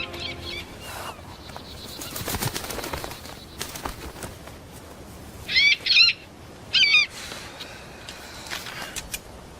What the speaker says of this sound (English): You talked to that bird.